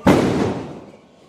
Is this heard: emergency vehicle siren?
no